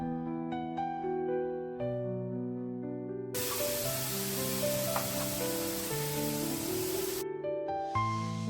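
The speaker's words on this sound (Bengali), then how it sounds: "চলুন এদিকে আগে লুচিগুলো ভেজে নিই" Luchi, puffed flatbread, fry in hot oil with a loud, dense hiss and sizzle lasting several seconds, set against background music.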